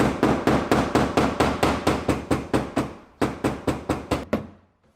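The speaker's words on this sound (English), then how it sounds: "kind of use a hammer dolly type of effect. Here's the dolly, here's the hammer." A hammer strikes a metal fender edge held against a dolly, about eighteen sharp, evenly spaced ringing blows close up, broken by one short pause before a final run that ends in silence.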